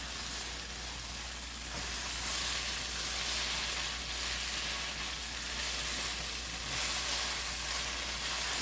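Food fries in a pan as the base for a homemade spaghetti sauce, giving a steady, fairly faint hiss of sizzling oil that swells slightly in places, with no talking.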